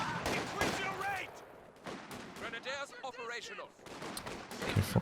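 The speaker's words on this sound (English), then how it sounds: "Could potentially be blasting away with the machine gun on the building." Gunfire and explosions in Company of Heroes 2, bursts of shots under a commentator's fairly quiet, continuous speech.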